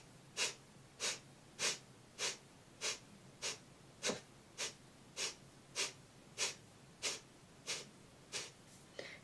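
Forceful kapalbhati breathing: about fifteen sharp, evenly spaced nasal exhalations, roughly one every two-thirds of a second, close and clear over quiet background.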